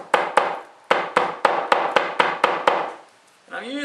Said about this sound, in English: Take a hammer or something and lay it on a table or whatever you've got, and you just start and you make an impression.